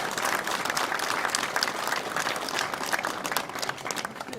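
An audience at an outdoor Bersaglieri flag-raising ceremony claps steadily, a dense, even round of applause that holds at moderate loudness throughout.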